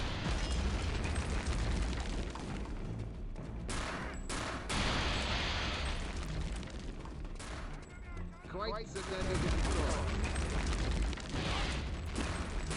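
Loud, dense game combat from a shooter with Agent Blazkowicz, with repeated booming blasts and crackling gunfire through most of the stretch, a brief lull in the middle, and music and effects layered throughout.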